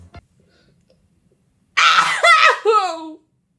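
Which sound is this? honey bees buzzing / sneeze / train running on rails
sneeze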